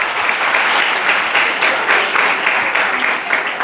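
Workshop audience clapping together in a personality development session, dense sustained applause with crisp hand claps throughout, loud and close with no pauses.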